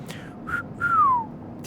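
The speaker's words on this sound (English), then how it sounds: "Ethan whistles." A character whistles in the cyberpunk narrative video game Citizen Sleeper: a short rising whistle note, then a longer falling glide, moderately loud over a low ambient hum.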